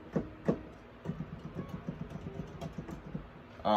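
Soft, rapid clunks from piano keys tap out an uneven rhythm, muted and close, with a few louder knocks at the start.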